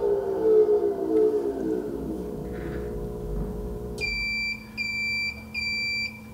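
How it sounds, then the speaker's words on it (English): A Phoenix wheel balancer gives three clear, evenly spaced electronic beeps at the end of calibration, following a low mechanical whir as the wheel spins down. "So we got 3 beeps and it said save data on the screen."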